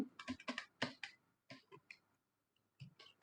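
Someone types on a computer keyboard while writing an HTML web page, producing quick close bursts of crisp key clicks in uneven clusters, separated by short pauses.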